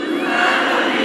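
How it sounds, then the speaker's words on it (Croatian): A large outdoor crowd in a city square welcoming home a handball team roars and cheers in a dense, loud, sustained wall of voices, with any clapping lost inside the shouting. "Pozdravite ga velikim pljeskom!"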